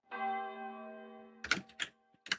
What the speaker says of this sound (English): the bells toll